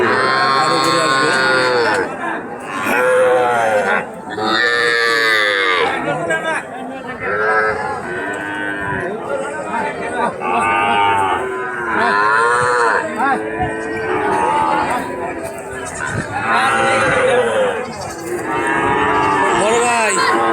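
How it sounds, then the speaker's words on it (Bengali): Cattle and young calves moo repeatedly at a busy livestock market, loud and close with overlapping calls throughout, while people chatter and talk underneath. "এখনো গরু আসতেছে,"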